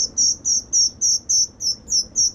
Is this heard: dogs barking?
no